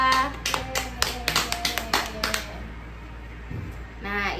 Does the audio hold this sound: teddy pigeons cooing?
no